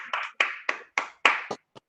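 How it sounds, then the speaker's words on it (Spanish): A single person claps seven times, close and crisp, in an uneven rhythm that tapers off, with silence between the claps. "yo les aplaudo por todos los que quieren aplaudir"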